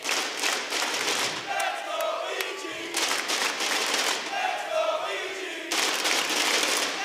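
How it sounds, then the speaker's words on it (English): A large arena crowd at a Rainbow Six esports event builds a cheer in rhythmic chanting waves, loud and dense, with a commentator talking over it. "The crowd trying to get a reluctant cheer going."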